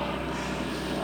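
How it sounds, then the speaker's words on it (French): A propeller airplane drones overhead, a steady low hum filling the whole moment without talk. "On va laisser passer l'avion."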